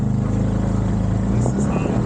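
A Massimo Knight 500 4x4 engine drones loud and close at a steady high rev while the brake and throttle are both held.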